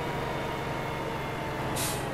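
A truck's air brakes release a sharp, loud hiss near the end of the clip in Farming Simulator 15, over a constant heavy engine rumble from the vehicle on a forest drive.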